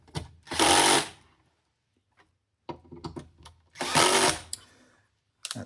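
An electric screwdriver on a low torque setting tightens screws on a Technics SL-1210MK2 turntable. Two sustained whirring runs are heard close up, separated by short clicks and taps, with a brief start of another whir at the end.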